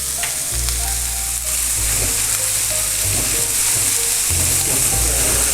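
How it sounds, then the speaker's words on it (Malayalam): Sliced onions sizzle steadily in a hot pan for a Kuttanadan duck roast, a loud continuous frying hiss with occasional stirring clinks and scrapes. "സവാള ഇട്ടൊന്ന് മുപ്പിക്കുക."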